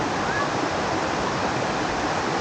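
Forceful forest stream in Silent Valley rushing past in a dense, steady roar, loud and close with no pauses.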